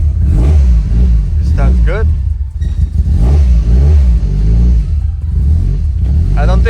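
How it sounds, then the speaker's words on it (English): Nissan S15 car engine, recently repaired after a fire, rumbles loudly up close at idle with a steady low throb and slight fluctuations, while a person talks over it. "technically idle right now, but it sounds good. No crazy noise, no more smoking"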